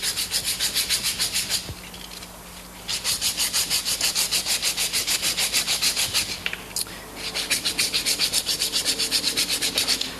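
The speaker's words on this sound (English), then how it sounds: "Just scuff and make certain that you go all the way around the cable." Emery cloth scuffing around a cable jacket for a splice closure, a rapid rhythmic back-and-forth rasping, close and loud, in bursts with a couple of short pauses.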